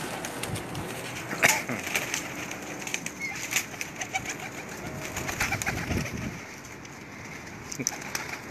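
Teddy pigeons, some cross-bred, coo softly amid steady ambient noise, with wing flaps and brief sharp rustles scattered across the span.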